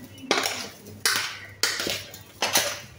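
A metal spoon stirs sugar into water in a pot, making four sharp clinking scrapes against the sides at regular intervals, close and clear with no talk.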